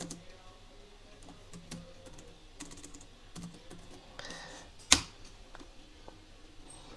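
Soft, quiet typing on a computer keyboard, with irregular light key clicks spread through the stretch and one sharper, louder tap near the end.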